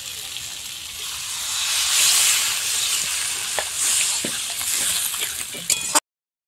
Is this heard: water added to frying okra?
yes